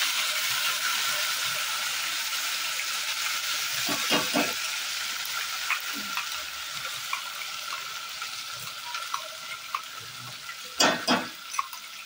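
Tomato-onion paste frying in hot oil for a mutton curry, a steady close sizzle and hiss with intermittent scraping and stirring knocks from a utensil in the pan.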